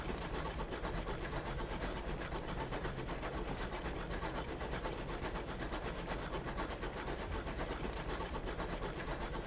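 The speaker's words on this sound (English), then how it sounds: "A nice, quiet train ride." Steady rolling train rumble with rhythmic clickety-clack from a train ride through space in the video game Sunless Skies, continuous and fairly loud with no talking.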